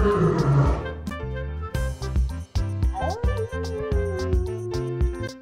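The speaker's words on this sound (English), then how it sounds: "Lion." A lion lets out a rough, rumbling roar at the very start, fading quickly beneath playful background music.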